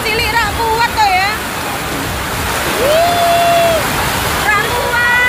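Heavy rain pours in a dense, steady roar during a storm in Semarang, with voices and tonal calls rising above it now and then.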